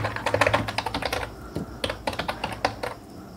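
An Aadhaar number is typed on a computer keyboard in quick bursts of clicky keystrokes, close and distinct, with brief pauses between runs and no voices.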